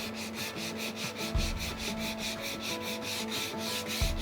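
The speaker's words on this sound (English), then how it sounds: "Now I'm just kind of sanding up the edges of that olive" Sandpaper rubbing back and forth on the edges of an olive wood piece for a knife rack, a quick, even scratching rhythm up close with a couple of light knocks.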